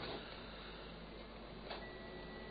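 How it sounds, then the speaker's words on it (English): A printer left switched on gives a very faint, steady mechanical hum with a thin whine in a quiet room, and one small tick partway through. Nobody speaks. "the printer's on if you're just wondering what the noise is going to be"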